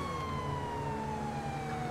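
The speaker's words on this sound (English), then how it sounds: "I've got sirens on" A police car siren in the video game GTA 5 wails in one continuous falling sweep, loud and close over a rumbling engine.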